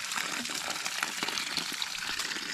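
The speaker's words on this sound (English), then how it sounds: "Relatively clear water coming out of the pipe." Relatively clear water pours steadily from a pipe through a farm pond dam, a continuous close rushing gush with no break.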